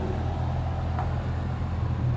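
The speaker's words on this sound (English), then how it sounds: "It might be just a truck." A truck rolling along a ramp at Honolulu airport, a low steady engine rumble at moderate distance with a faint tonal whine, no voices over it.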